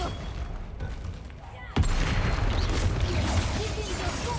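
Spell blasts go off in Hogwarts Legacy, with a sharp explosive burst near the middle followed by crackling, rumbling magical effects and a dense layer of game sound.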